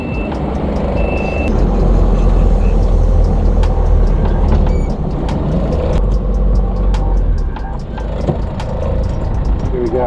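A Land Rover Perentie 4x4 on a test drive, with a steady low engine drone and road rumble throughout, plus scattered clunks and taps from the vehicle.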